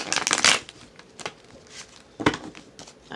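A tarot card deck is shuffled by hand in quick riffling bursts, loudest at the start and again after two seconds, with quieter papery rustles between and no talking.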